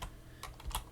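A few keystrokes on a computer keyboard while typing an edit command in an Ubuntu Linux terminal, sparse clicks close by in a quiet room with no talking.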